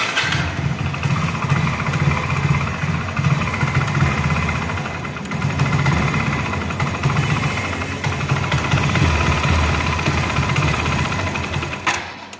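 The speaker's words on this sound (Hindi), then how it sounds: "देखो किस तरीके से गाड़ी मिसिंग करने लगी" A faulty motorcycle engine idles roughly and misfires, a continuous, loud, uneven chugging that stutters irregularly throughout, close by with no talking.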